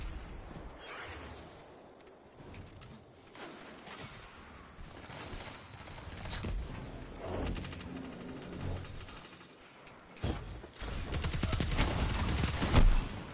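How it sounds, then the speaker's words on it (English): Gunfire in a Destiny 2 multiplayer match, with shotgun blasts among scattered bursts of shots, mechanical clicks and explosive booms, busy and uneven, growing louder and denser toward the end. "Shotguns, man."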